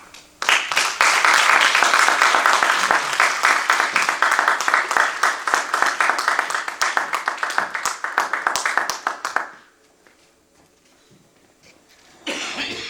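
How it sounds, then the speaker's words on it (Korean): Audience applause at a book launch event in the United States, welcoming the author: a loud, dense burst of many hands clapping for about nine seconds that fades into near silence, followed by a brief rise of sound at the end. "여러분께서 참 크게 여러분 큰 박수로 저자를 맞아주시기를 바랍니다"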